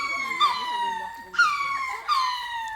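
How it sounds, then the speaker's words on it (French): Dogs howling and whimpering in long, wavering, high-pitched cries, three rising and falling wails in a row, fairly close, with people talking over them. "Des chiens qui pleurent. Pourquoi ils hurlent comme ça?"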